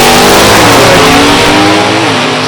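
A drag race car at Beech Bend roars hard down the racetrack, a loud, close engine note climbing steadily through the gears before fading slightly at the end.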